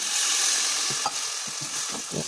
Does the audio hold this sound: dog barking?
no